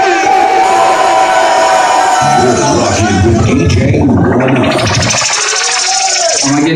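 An audience at a Lambda Sigma Upsilon step show erupts on cue into loud shouting and cheering that swells into a roaring wave of voices, then a rising whoop before it settles.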